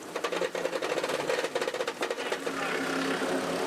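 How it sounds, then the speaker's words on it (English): A race car gearbox grinding in every gear at Shannonville in 1990: a fast, harsh mechanical rattle and grinding chatter, steady and close, settling into a rougher continuous whir near the end. "any gear, it's grinding and rattling big time"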